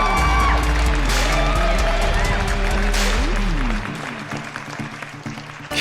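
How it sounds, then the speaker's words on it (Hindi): Audience at a stand-up comedy show breaks into loud clapping with whoops and cheers, while a low hum runs underneath, before the crowd noise thins and fades near the end. "मगर पहले उस शख्स के लिए ताली जो विपुल वायरल के नाम से मशहूर है।"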